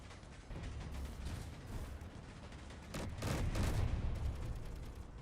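Turret guns in the Space Engineers game keep up a sustained, rattling stream of fire at the player, a dense mechanical clatter that swells louder partway through.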